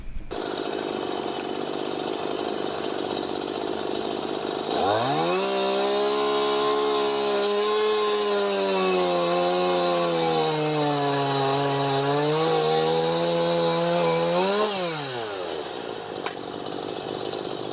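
A STIHL chainsaw revs up and cuts steadily through wood for about ten seconds, its loud, close engine note rising and dipping under load before it winds down and idles.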